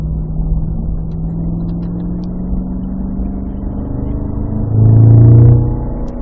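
A Cadillac CT5-V Blackwing with manual gearbox on the track at Spring Mountain, Pahrump, its engine droning steadily from inside the cabin before swelling into a louder, brief rise in revs near the end.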